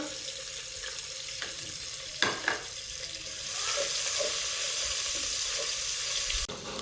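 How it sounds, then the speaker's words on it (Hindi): Capsicum frying in half a cup of oil, a steady hissing sizzle that swells louder midway, with a couple of brief clinks of a utensil early on. "ये शिमला हमारी थोड़ी सी फ्राई हो चुकी है"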